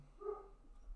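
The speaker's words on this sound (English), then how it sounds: "I don't know what they're barking at." A dog gives a single short, muffled bark from a distance, faint against a quiet indoor background, with no one talking over it.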